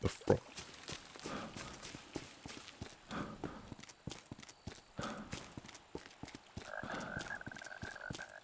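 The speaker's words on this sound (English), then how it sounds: "feel like I just heard a frog." A frog in the video game Dead Rising Deluxe Remaster croaks in rapid, rhythmic clicking pulses that repeat throughout, fairly faint and steady, with a few brief swells.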